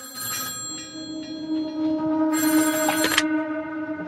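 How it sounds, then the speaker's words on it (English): A telephone bell rings in two loud bursts with a pause between, the old-style ring repeating clearly and close by with no talk over it. "she had gotten a phone call from Jackie"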